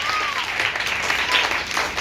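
A church congregation bursts into dense, loud applause with cheering voices mixed in, a sustained wash of clapping across the whole moment.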